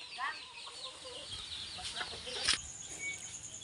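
An agitated chicken gives sharp, squawky clucks and cries at close range over faint background noise, with a louder burst of agitated calling midway.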